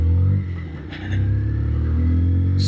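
A Bajaj Pulsar 125 motorcycle with a five-speed gearbox pulls away in first gear. Its steady engine hum is close and loud, dips briefly, then rises again as the bike moves off.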